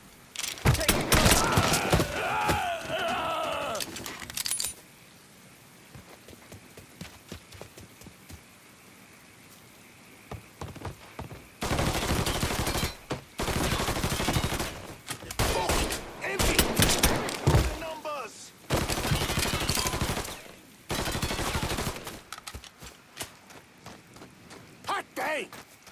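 Video game gunfire in Mafia III: Definitive Edition, with loud, dense bursts of shots arriving in clustered volleys separated by quieter stretches, and a voice talking at the start.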